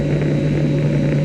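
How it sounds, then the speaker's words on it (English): Steady, even drone of a US Navy aircraft in flight, heard from inside the cabin, with a constant low engine hum and a fixed tone running through it for the whole moment, without any talk. "I'm now aboard a US Navy aircraft."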